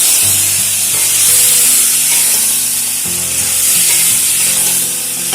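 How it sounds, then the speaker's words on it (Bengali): Spice paste sizzles steadily as it is sautéed in a kadai with a little water added, a close, loud, continuous frying hiss with faint stirring scrapes. "খুব ভালো করে কষিয়ে নিচ্ছি"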